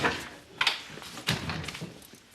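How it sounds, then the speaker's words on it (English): In an indoor scene from a TV drama, a door is pulled shut with a couple of soft knocks and scrapes, quiet and close, over faint room noise. "Pull the door to on your way out, Eric."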